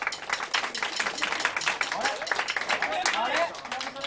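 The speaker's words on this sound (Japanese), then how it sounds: "じゃあ、俊平の方がかっこよかったって人は拍手。" Scattered clapping from a party crowd voting by applause, busy and chattery with voices talking and laughing over the claps throughout.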